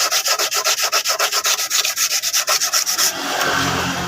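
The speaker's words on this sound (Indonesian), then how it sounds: "kita gosok seperti ini sampai benar-benar halus dan merata" Motorcycle paint being sanded smooth by hand, a loud, close, steady back-and-forth rasping in quick regular strokes that gives way to a continuous smoother scrub near the end.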